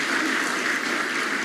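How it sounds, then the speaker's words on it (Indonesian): Steady, dense applause fills a church hall as the congregation claps for Jesus, a continuous even roar of many hands without pause or speech. "Tepuk tangan buat Tuhan Yesus"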